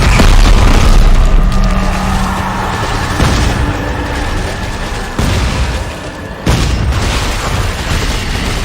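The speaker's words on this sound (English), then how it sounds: "Shotgun." Booming shotgun blasts in the video game Dead Space 3, several heavy sharp shots spaced a few seconds apart over a dense, noisy background of game sound.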